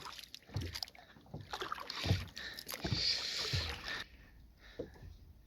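A kayak paddle dips and pulls through the water on a fishing trip off Fiji, with irregular splashes and drips over light wind and a hull-slapping wash, nearby and fairly soft.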